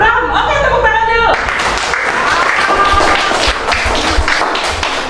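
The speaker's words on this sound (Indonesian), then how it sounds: "Oke, tepuk tangan dulu." Children in a classroom break into clapping after a teacher speaks, a dense burst of hand claps near and fairly loud that continues for several seconds with scattered voices.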